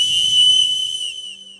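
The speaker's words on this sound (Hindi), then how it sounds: "हमको भी सीटी बजाने आ गया है।" A person whistles one loud, sustained high note that holds steady and then fades away over about a second and a half.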